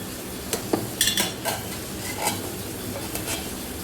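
Paneer and capsicum sautéing in a pan, a steady sizzle broken by repeated scrapes and clinks of a spatula stirring against the metal.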